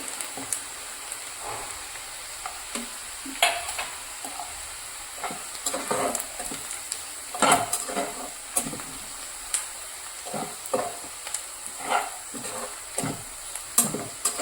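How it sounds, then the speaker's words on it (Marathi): Red chilli, garam masala and turmeric sizzle in hot oil for a dhaba-style kadai paneer tempering, a steady close crackle broken by irregular stirring scrapes and clinks of a spoon against the kadai, with no voices. "आता वरून फोडणीसाठी 1 चमचा लाल मिरची, 1 चमचा गरम मसाला आणि थोडीशी हळद टाकायची आहे."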